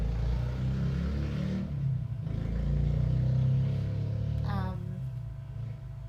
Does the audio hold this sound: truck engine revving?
yes